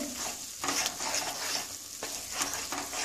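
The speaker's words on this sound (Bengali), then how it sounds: "এটা নাড়তে হবে" Moong dal halwa is stirred in a pan over low heat, a continuous scraping and sizzling with rhythmic sweeps of the spoon, close up with no talking.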